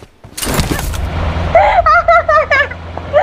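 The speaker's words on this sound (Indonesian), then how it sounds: "Tembakan." A short, loud close-range burst of gunfire in a mobile shooter game, followed by a voice speaking.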